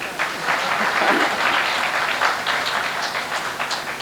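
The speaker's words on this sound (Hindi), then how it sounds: "बजाओ ताली।" An audience at a Hindi comedy poetry show breaks into applause, a dense, steady burst of clapping from many hands, loud and close for the whole stretch.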